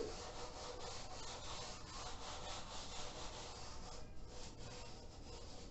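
A board being erased by steady rubbing during a physics lesson, with a continuous, fairly close scrubbing and swishing that runs unbroken throughout and carries no talk.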